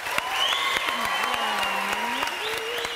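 Studio audience on a Turkish TV talk show applauding, a dense and steady burst of clapping with some cheering throughout. A sustained musical tone runs underneath, and it is heard near and loud.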